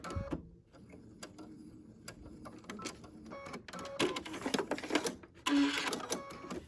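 A sewing machine runs in short, uneven bursts of rapid needle clatter while putting reinforcement stitches into a fabric gift bag, close by and fairly quiet, with no talking.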